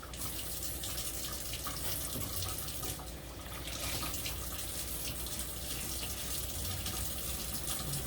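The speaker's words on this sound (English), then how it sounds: "Rinse this off again." Faucet water runs steadily into a kitchen sink while something is rinsed, a continuous splashing flow with slight shifts as the item moves under the stream, no talking.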